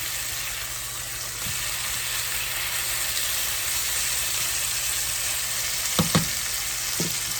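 A marinated steak sizzles steadily in a pan on the stove, a constant close frying hiss with a few faint clinks near the end.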